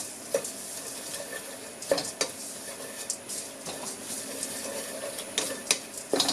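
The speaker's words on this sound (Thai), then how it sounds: "เห็นไหมข้าวโอ๊ตเริ่มนั่นแล้วนะระวังไหม้นะคะเราต้องคนเรื่อยๆนะคะ" Oats roasting in a dry pan are stirred with a utensil, giving a soft continuous rustle and sizzle broken by occasional scraping taps against the pan, close and steady with no talking.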